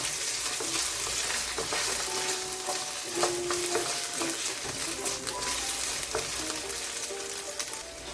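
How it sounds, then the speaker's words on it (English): Potatoes sauté in coconut oil with pimento seed for a Jamaican curry shrimp, giving a continuous close frying sizzle with stirring scrapes and occasional bright clinks of a utensil against the pan. "So right now I'm gonna put my potatoes in because I'm gonna saute it."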